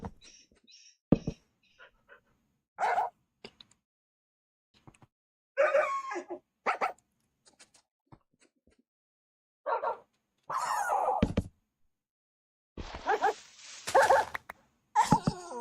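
Two pet dogs in a survival game bark, yip and whimper in short scattered bursts separated by silences, fairly close and clear with no talk over them.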